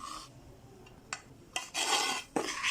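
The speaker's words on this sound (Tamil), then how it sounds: "ஒரு ரெண்டு கரண்டி வச்சு நல்லா மிக்ஸ் பண்ணிக்கிங்க" A spoon scrapes and stirs freshly ground, still-warm sambar powder in a bowl, making several harsh rasping strokes up close with brief pauses between them and no talking.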